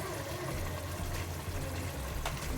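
Water pours steadily into a cooking pot for chicken biryani rice in a home kitchen, a faint, continuous gushing trickle with no voices.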